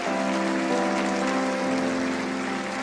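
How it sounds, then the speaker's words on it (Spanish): Church congregation applauding in praise after a sermon, a dense steady wash of clapping with sustained music tones underneath, loud and continuous throughout. "Un aplauso a Jesús."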